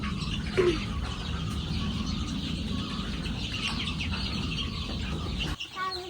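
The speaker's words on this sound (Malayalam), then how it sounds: "കോഴികളെ കാണാനായിട്ട് വന്നു നിന്നിട്ടുണ്ട് ഇവിടെ" Chickens clucking and chirping in a yard, with a fairly steady background of low hen calls and an occasional sharper cluck.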